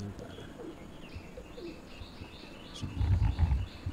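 Pigeons in a loft coo and murmur softly throughout, with a louder burst of low cooing near the end, over a steady room background.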